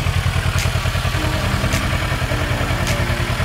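A motorcycle engine runs again after a battery change, idling with a steady low, chugging rumble that is loud and continuous throughout, with faint clatter and no talking.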